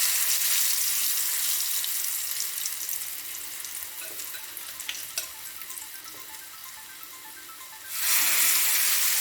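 Pieces of elephant yam frying in hot oil over a medium flame: a loud, steady hiss and crackle that eases slightly, then swells again sharply near the end, with no talking.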